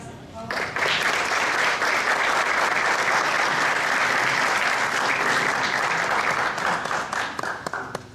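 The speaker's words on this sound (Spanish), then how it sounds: "Recibámoslo con un fuerte aplauso, por favor" An audience at a university lecture breaks into loud, sustained applause to welcome the speaker, starting abruptly after a moment of quiet and holding strong before tapering slightly at the end.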